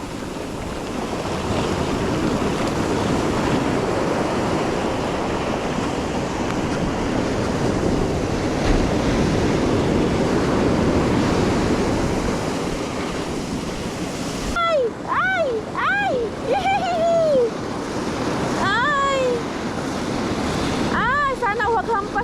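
Ocean surf rolls and crashes continuously against the shore during a fishing outing, a loud broadband wash with wind buffeting the microphone; about two-thirds of the way in, voices and excited shouts join over the waves.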